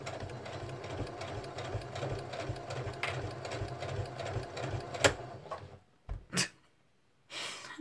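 A sewing machine stitches a paper-pieced quilt block in a steady rhythmic chugging run for about five seconds, then stops with a few sharp clicks and a brief final burst.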